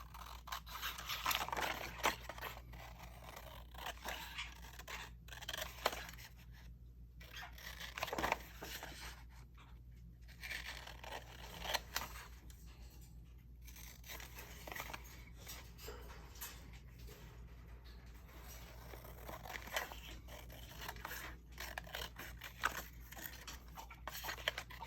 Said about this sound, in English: then I'll cut it out